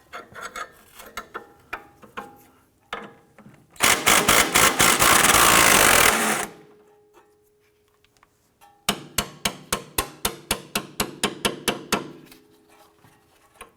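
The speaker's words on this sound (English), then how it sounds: "We're going to use a punch just to work this bolt out the rest of the way." A hammer strikes a punch to drive the lower clevis fork bolt out of the front suspension of a 2004-2008 Acura TL, giving sharp metallic clanks in quick runs, close and loud, broken by a few seconds of harsh grinding, with no voices.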